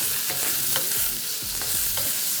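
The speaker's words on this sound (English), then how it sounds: "before you start to stir fry" Prawns stir-frying in a hot wok for chow mein, a steady loud sizzle broken by repeated scraping strokes of the spatula, close up, with no talking.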